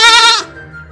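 A goat gives a single short, loud, close bleat that wavers and then breaks off, fading into quiet background.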